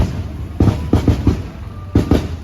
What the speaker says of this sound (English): Some crazy fireworks going on.